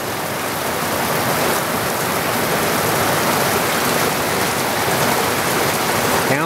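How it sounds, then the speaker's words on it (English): Heavy summer rain in Vermont falls as a steady, dense roar of downpour, loud and continuous with no voices, close by and unbroken throughout. "Downpours."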